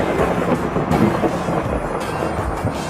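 Thunder from lightning rolls as a loud, deep, continuous rumble with uneven swells and no voices.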